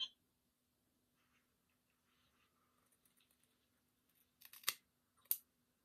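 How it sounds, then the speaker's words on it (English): Scissors cut hair after a stretch of quiet rustling: two sharp, close snips stand out near the end of an otherwise hushed room. "I cut some. I heard the cut."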